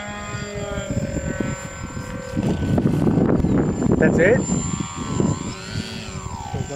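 RC model airplane with a propeller motor flying on a windy day, a steady buzzing drone that rises and falls in pitch as it passes, with wind noise and people talking over it.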